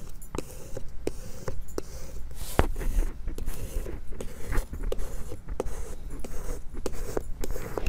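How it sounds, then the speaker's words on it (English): A small squeegee tool scrapes over iron-on vinyl on a T-shirt, quiet repeated rubbing and scratching strokes at close range, with occasional soft taps. "I need to find my little squeegee tool and remedy that before I start cutting"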